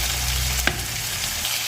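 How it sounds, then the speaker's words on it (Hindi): Garlic and potatoes frying in a pan give off a steady, even sizzle from start to finish, close and fairly loud, with one brief clink partway through. "मैं यहाँ पर थोड़ा रोस्ट कर रही हूँ आलू, मतलब फ्राई कर रही हूँ आलू को भी और लहसुन को भी।"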